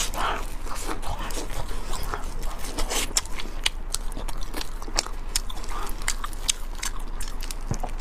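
Biting into and chewing an egg-fried Taoli croissant, with crisp crunchy bites and soft mouth sounds close to the mic across the whole stretch, no talking.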